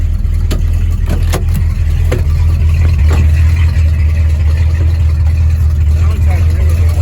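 The engine of a 1968 Pontiac Tempest rumbles loud and close during a ride along, a deep continuous drone with a few sharp knocks and bumps from the car. Voices are mixed in with the engine noise.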